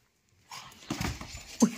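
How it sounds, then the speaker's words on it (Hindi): A pet dog makes soft, high whimpering sounds and small yips, with breathy rustling between them and a sharper cry near the end. The dog is close but fairly faint. "भौं भौं भौं भौं भौं भौं इतनी तेज कर रही है।"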